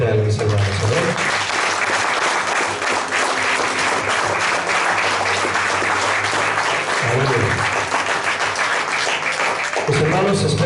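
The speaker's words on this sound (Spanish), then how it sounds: "Demos otro aplauso fuerte a él, mis hermanos" A church congregation gives loud, sustained applause, a thick, steady roar of many hands that fills the room, with a low murmur of voices underneath.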